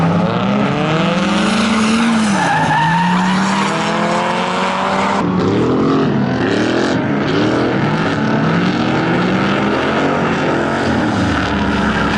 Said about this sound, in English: Oh, the other guy spun out. kind of took it in the dirt.